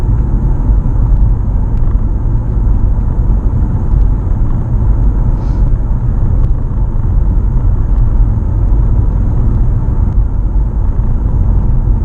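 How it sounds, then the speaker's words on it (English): A Mitsubishi plug-in hybrid car accelerates under electric power. A loud, steady low rumble of road and drivetrain noise fills the cabin, with no voices over it. "now I'm using 30 kilowatt to accelerate the car"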